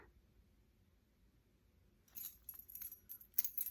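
Keys for a vintage Best padlock jangle briefly and faintly up close, a quiet metallic rattle after a near-silent pause.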